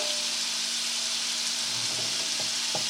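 Steady sizzling of scallops searing in a hot pan, a constant hiss with a few soft clinks near the end.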